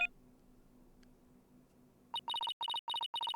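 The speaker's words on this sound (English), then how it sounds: "My phone." A phone rings in the Phoenix Wright: Dual Destinies video game: after a quiet low hum, a sharp electronic ringtone breaks in, repeating in quick clusters of bright trilling beeps that sound loud and close.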